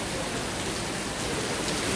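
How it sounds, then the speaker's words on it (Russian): Heavy downpour at the central market in Adler, a dense, steady roar of rain hissing loudly and evenly with no voices over it. "Сейчас я узнаю, что такое ливень в Адлере."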